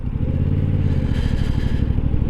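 A new 2023 Yamaha MT-07 motorcycle engine runs steadily close by, a deep throbbing low rumble with a faint rise in revs partway through, no voices.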